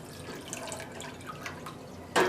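Wet dip-dyed wool roving, coloured with violet food colouring, lifted from a pot and dripping water back into it, with soft scattered drips and a louder splashing pour at the end.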